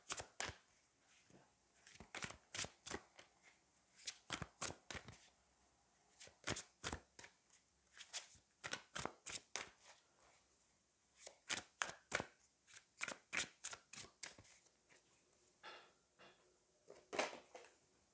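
Someone shuffles a Fallen Angels tarot deck, producing quick riffling bursts that repeat steadily throughout, close but soft, with no talk over them.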